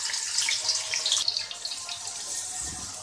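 Chopped onions hiss and sizzle steadily as they hit hot oil in a pan while biryani is being cooked, a close, continuous crackling spatter.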